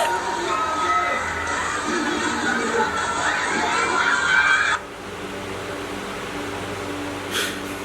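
A crowd at a stage show cheers and shouts loudly for about five seconds, then the noise drops abruptly to a quieter room hum with a brief burst of sound near the end.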